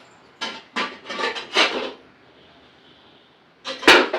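A silver steel plate set onto an idli steaming vessel, giving a cluster of close metallic scrapes and clanks, a quiet pause, then a sharper clatter at the end; no talking.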